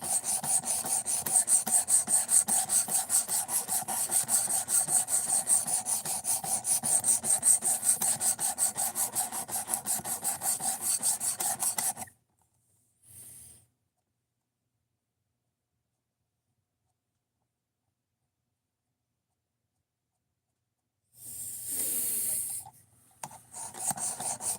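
A knife blade rasps rhythmically along the stone of a guided sharpening system, fast repeated strokes for about twelve seconds, then a brief scrape, a long pause and another burst of strokes at the end.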